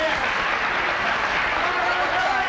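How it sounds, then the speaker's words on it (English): A television talk-show studio audience claps in a steady, dense wash of applause that stays at an even volume throughout, with no breaks. "So why don't you clap for that?"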